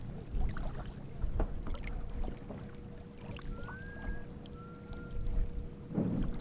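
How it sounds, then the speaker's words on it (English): Faint, thin whistle tones drift in twice over a steady outdoor rumble by a river during a fireworks show, with a dull low burst near the end. "So the whistling continues while he's recording the fireworks show."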